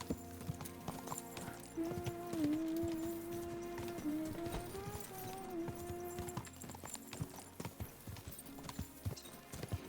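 Horse hooves clip-clop in a steady rhythm while riding in Kingdom Come: Deliverance II, close and fairly loud, with a brief whinny-like tonal sound partway through and no talk.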